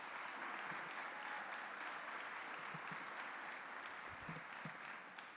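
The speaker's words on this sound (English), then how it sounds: "let's just give a round of applause for all those doctors." A plenary session audience applauds a group of doctors, a sustained wash of many hands clapping at a moderate distance, steady throughout and easing slightly at the close.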